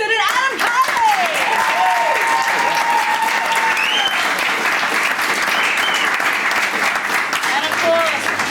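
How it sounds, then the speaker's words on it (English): A studio audience at a comedy panel show applauds its special guests with sustained, loud clapping, while a voice and cheers rise over the start and a brief low sound comes near the end. "an extra big round of applause for our special guests, Mark Aiston and Adam Keily."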